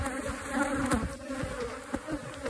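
Bees swarm around a hive being rescued from inside a tree trunk, their dense, continuous buzzing close and loud throughout, with no voices.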